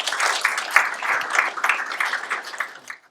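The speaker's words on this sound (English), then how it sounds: "can we give Grant a round of applause and welcome him to our burn school?" A round of applause from a burn school audience welcoming a speaker on smoke management, dense steady clapping for about three seconds before it stops abruptly at the end.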